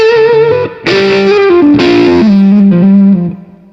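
An electric guitar played through a Komet K.O.D.A. overdrive amplifier with the drive raised and gain near three quarters, giving loud, saturated sustained chords that shift and ring out with no voice.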